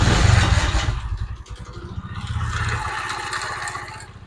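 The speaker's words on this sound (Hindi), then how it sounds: "तो आप देख सकते हैं कि इंजन का साउंड बिल्कुल ठीक हो चुका है।" A Honda motorcycle engine idles after a spring was fitted to fix a noise problem, with a steady close mechanical rumble and light clatter that dips briefly midway, and no one talking.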